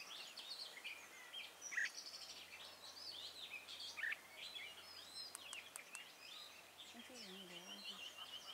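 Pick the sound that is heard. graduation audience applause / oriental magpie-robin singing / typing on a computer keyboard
oriental magpie-robin singing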